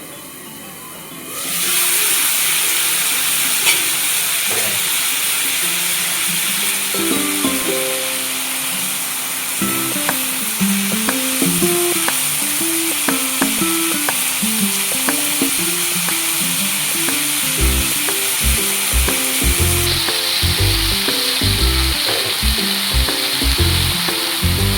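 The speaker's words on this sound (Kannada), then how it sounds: "ಫ್ರೈ ಆಗಲಿ." Afghan-style chicken tikka frying in a pan on a medium flame, a loud steady sizzle and hiss with occasional clinks and a rhythmic low thudding toward the end, close, no talking.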